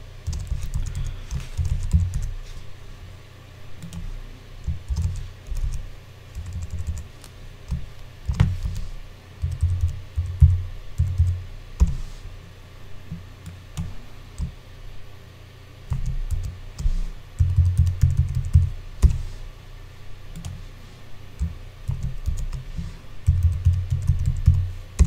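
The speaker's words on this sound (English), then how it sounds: "I'm going to type in my username and my password and the email that I want this to go to." Username and password being typed on a computer keyboard, with steady bursts of close, crisp key clicks broken by short pauses, and no voices.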